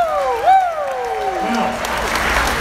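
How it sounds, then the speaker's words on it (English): At a Belleville Senators hockey jersey launch, the crowd claps for the team mascot, a steady burst of applause beneath a loud sweeping announcer voice and a few whoops. "Let's give it up for Spartacat."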